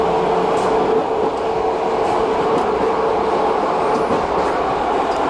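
A passenger train rolls along the rails through Austria and Switzerland, a steady loud rumble with a constant interior hum and faint squeals, heard from onboard.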